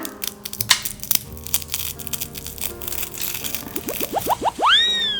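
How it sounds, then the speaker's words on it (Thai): Crisp crunching and crackling from squeezing crispy fried crab sticks, close up, followed by a few springy boing-like synthetic effects at the end. "กรอบมากค่ะคุณผู้ชมกรอบกรอบนะคะ โอเคค่ะเดี๋ยวจะลองบีบให้คุณผู้ชมฟังเสียงดูนะคะ"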